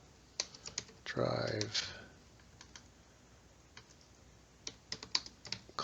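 Keyboard typing as a club name is re-entered for a round logo, heard as scattered, close key clicks in short bursts, with someone speaking briefly between them.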